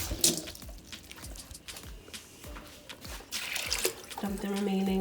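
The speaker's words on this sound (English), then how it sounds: "Rinse it up with a little bit of water." Running tap water splashes and drips into a container of lentils being rinsed, with clinks and handling noises, the flow growing steadier toward the end.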